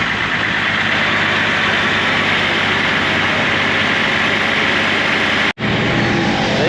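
A Land Rover engine fitted with original turbos runs loudly and steadily at idle, a dense continuous rumble that holds throughout with one brief dropout near the end.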